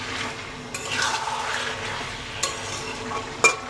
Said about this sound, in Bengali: এখন একটু চিকেনটা ভাজা ভাজা করে নেবো